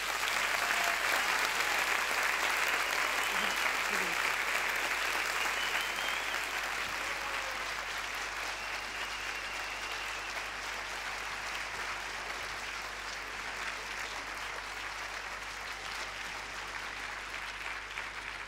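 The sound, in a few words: audience applause encouraging thesis contest candidates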